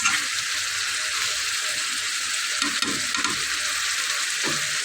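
Meat and spices sizzle steadily in a pan with ghee, a constant close frying crackle with occasional stirring clinks and scrapes.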